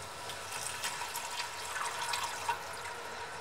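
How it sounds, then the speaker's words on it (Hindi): About 400 ml of water pours into ground spices frying over a low flame in a pan for a Delhi-style chicken nihari, a soft, steady splashing hiss with gentle bubbling, fairly quiet and without speech. "तो तकरीबन 400 ml के करीब मैंने इसके अंदर पानी ऐड कर दिया"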